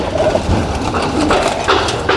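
Pigeons kept in a fancier's loft give a few soft coos and brief calls, close by, over a low background murmur.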